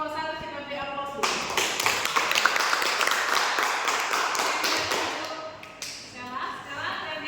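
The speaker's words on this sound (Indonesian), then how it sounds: "untuk kelompok 1 kita beri aplaus dulu" A student group of religious education teacher trainees is applauded after their classroom presentation: a dense burst of clapping, with the teacher's voice just before it, runs for several seconds, then thins out toward the end.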